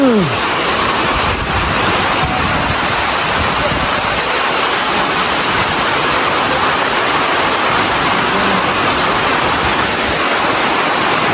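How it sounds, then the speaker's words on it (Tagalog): Heavy rain drives down with wind outdoors, a thick, constant, loud wash of rushing water and low wind buffeting that never lets up. "So, yan ang ulan, mga babae, no? At sinabayan ng hangin."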